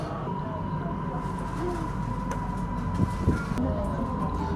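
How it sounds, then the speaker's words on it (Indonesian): An elevated MRT/LRT train on the Kajang line hums and rumbles steadily along the track, with a sustained tone and a few clicks, close and continuous with no talk. "jalannya MRT ini di atas kayak layang-layang"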